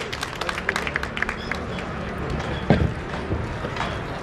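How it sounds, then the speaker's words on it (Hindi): Dense audience clapping greets someone speaker invited onto the stage at an energy-science talk, a steady patter of many hands with a few sharper claps and a brief bump partway through. "तालियों से स्वागत करेंगे।"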